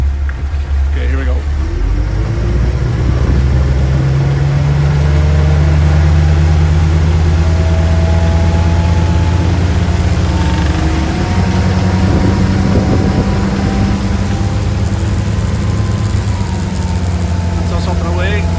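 A Doral Monticello boat with a Volvo Penta D4 260HP diesel engine accelerates, its loud low engine drone rising steadily in pitch, with someone talking over it throughout.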